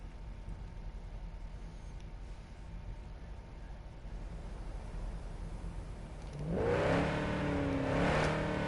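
A car in the video game Cyberpunk 2077 hums along at a low, steady level, then its engine suddenly revs up loudly and rises in pitch near the end.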